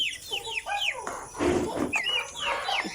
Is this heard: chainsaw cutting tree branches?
no